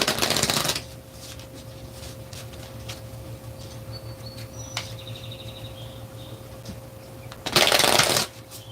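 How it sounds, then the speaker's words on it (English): Tarot cards being shuffled, with a loud riffling burst at the start, a quieter stretch with a steady hum and a few faint chirps, then another loud burst of shuffling near the end. "So we're going to have to pull cards about that"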